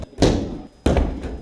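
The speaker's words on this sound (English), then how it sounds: "you can hear the sound of loud slamming coming from room 481" Judo throws slam bodies onto the mat in a club practice room, two heavy close thuds about half a second apart, each dying away quickly with faint voices underneath.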